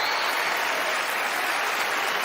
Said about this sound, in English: they give her a well-deserved round of applause